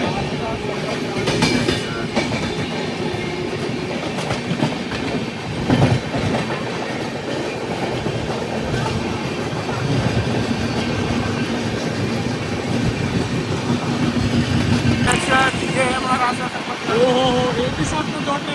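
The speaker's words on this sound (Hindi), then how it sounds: "एक ही साथ में 2 ट्रेनों को ओवरटेक कर रहे हैं।" The Sampark Kranti Express, running between Bandra Terminus and Hazrat Nizamuddin, rolls along while overtaking two trains, heard as a continuous close rumble with clattering wheels and occasional squeals, steady throughout with voices talking underneath.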